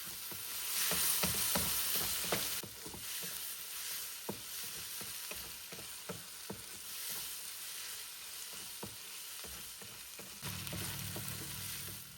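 Mixed vegetables frying and being stirred for Thai fried rice, a steady sizzle with scattered utensil scrapes and taps against the pan throughout, close and continuous.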